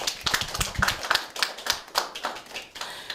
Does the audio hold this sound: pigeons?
no